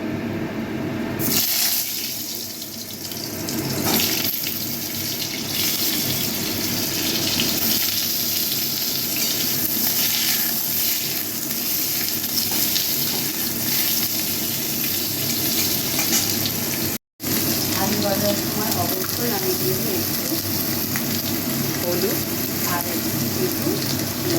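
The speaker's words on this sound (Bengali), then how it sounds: "দেখো তেলটা গরম হলেই আমি আলুটা একটু নাড়াচাড়া করে নেব" Potatoes sizzle and fry in hot oil in a wok while being stirred, a steady close, bright crackle running the whole time with small stirring scrapes and one brief dropout.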